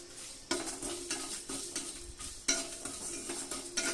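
Cumin seeds and two dried chillies are added to hot oil with coriander, and a spoon stirs them in the pan with steady close scraping and clinks over a soft sizzle.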